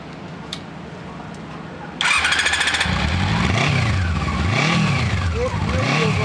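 A Harley-Davidson Evolution Softail motorcycle engine fires up after a brief starter whir, then settles into a loud, near idle with several rhythmic revs rising and falling.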